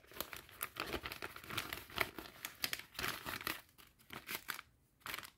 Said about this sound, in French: on va reprendre notre deuxième pochon, bien scotché aussi celui-ci. Et on va venir le plier en deux.